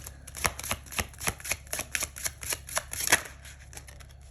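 An oracle card deck being handled as a card is pulled, giving a close series of crisp, papery snaps and riffles in an irregular rhythm over a low steady hum, with no talking.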